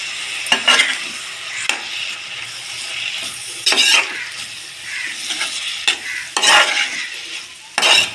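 A spoon stirs three spoonfuls of red chili powder into a sizzling mixture of tomato and red onion pieces, with repeated scraping strokes against the pan over a steady frying hiss, close and alone.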